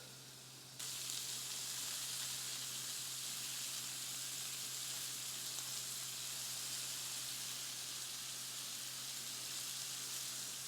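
Burgers sear in a pan with a steady, even sizzle that starts abruptly and holds for several seconds at a low, constant level, with no voices.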